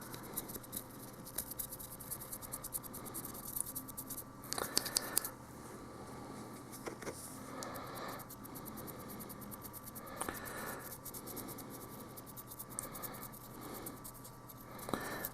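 Soft, dry scratching strokes of a paintbrush dry brushing paint onto a Celestial Lion miniature, faint, rapid and irregular, close up with no talk.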